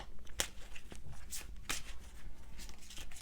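Tarot or oracle cards shuffled by hand for a reading: soft riffling and sliding card noise with a few sharp snaps, close and fairly quiet, under faint background murmur.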